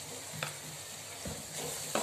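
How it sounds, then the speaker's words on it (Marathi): Spices and potatoes sauté in a hot pan with cumin powder, coriander powder, asafoetida and salt, giving a steady low sizzle with a few brief stirring scrapes near the start, middle and end. "हे छान परतून घेते आता मी"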